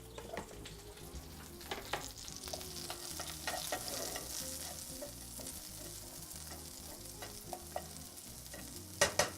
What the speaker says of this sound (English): Okay, I can hear those onions sizzling.